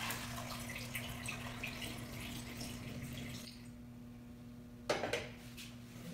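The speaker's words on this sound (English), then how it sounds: "take our warm milk, pour it through a funnel into any type of nice thermos" Warm milk pours through a funnel into a thermos as a soft, steady trickling stream. It stops partway, followed by a quiet pause and a brief clink of metal.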